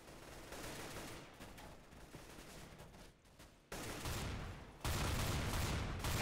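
Gunfire in the Counter-Strike: GO video game comes as dense, continuous volleys of shots that swell louder in stages, with no talking over them.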